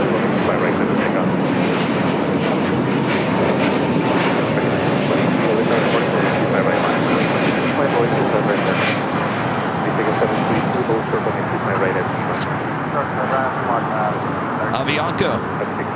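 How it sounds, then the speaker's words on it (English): An Avianca Airbus A320neo arriving at LAX from Guatemala City roars steadily as a loud, continuous jet rumble, with wind noise mixed in and brief higher tones toward the end. "Avianca, Flight 732, coming in from Guatemala City in A320 Neo"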